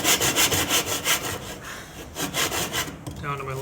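A hand saw cuts wood for a cross lap joint in quick, rhythmic back-and-forth rasping strokes, close and loud, slowing briefly before a short final burst.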